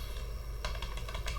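Keys on a computer keyboard are tapped in a short burst of quick, light clicks over a steady background hum, close and fairly quiet.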